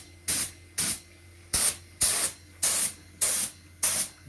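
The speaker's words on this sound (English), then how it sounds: "Just spraying up the last of the frames in black to be installed next week." Seven short bursts of spray paint as frames are coated black, each a sharp hissing puff of about a third of a second, evenly spaced and close, with quiet gaps between.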